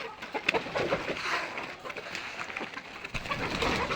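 A flock of layer hens clucks and chatters at feeding time, a dense, steady, close-up jumble of overlapping calls with no clear pauses.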